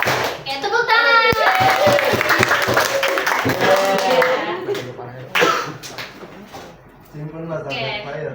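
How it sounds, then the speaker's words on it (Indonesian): Hands clap in a classroom lesson on the pillars of faith and Islam, sharp close claps mixed with children's voices and talking, loud and busy before tapering off. "tepuk tangan"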